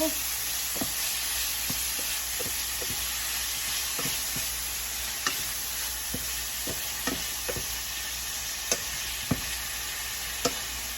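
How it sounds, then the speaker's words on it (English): Shrimp cooking in a pot for shrimp pho give a steady, even sizzle with occasional soft clicks of stirring, moderately close and alone without talk. "Okay, so we have the shrimp in here cooking."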